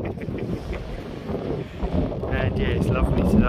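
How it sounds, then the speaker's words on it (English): Wind buffets the microphone in low, rumbling gusts throughout on the Jurassic Coast in the UK while a person speaks briefly over it. "A bit windy though, isn't it?"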